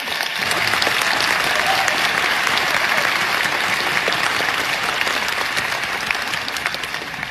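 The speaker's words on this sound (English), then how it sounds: "We could probably give them a round of applause right now." Sustained audience applause at a graduation-style ceremony, dense clapping from a large crowd filling the whole stretch at steady loudness, with no voices standing out.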